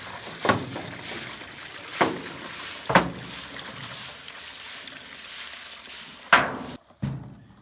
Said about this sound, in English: Break up the ice so we can pour it.